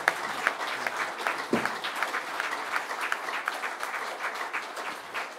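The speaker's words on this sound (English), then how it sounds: "he deserves a big hand from all of us" Audience applause at a talk for an aged care group: steady, dense clapping from a room full of people, fairly loud and continuous throughout with no speech over it.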